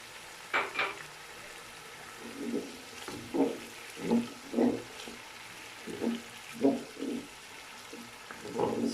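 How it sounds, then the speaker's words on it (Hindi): Masala spices fry in a pan with a splash of water for an aloo matar pulao, giving a series of soft bubbling sizzles and stirring scrapes in irregular bursts, close and fairly quiet. "थोड़ा सा मैं मसाले को पानी लगा रहा हूँ।"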